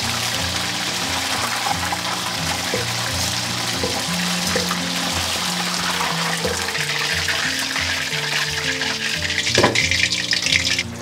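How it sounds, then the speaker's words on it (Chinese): Chicken wings being fried a second time in hot oil bubble and crackle steadily, with a low background hum and the frying growing slightly louder near the end. "给它复炸个10来秒就可以了。"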